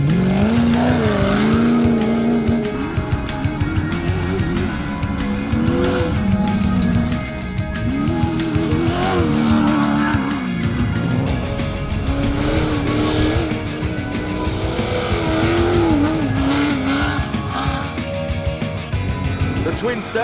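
Off-road race cars roar away at the start of round 2 of the ARB Australian Off-Road Racing Series, the Griffith 400, with loud, sustained wavering engine drone and revving throughout, while a commentator talks over it.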